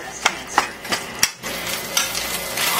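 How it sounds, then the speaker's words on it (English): Ground hamburger meat cooks in a pan with a steady sizzle under repeated sharp taps and scrapes of a utensil stirring it, heard up close. "we add it into the pan. We're going to cook it until it's all done."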